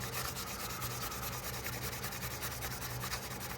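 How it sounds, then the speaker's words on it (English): Sandpaper rubs steadily over the metal back spring of a 1973 Case XX jackknife, a continuous close scratchy hiss made of fast, even strokes with no voices. "So we'll just go over this whole back spring with the sandpaper."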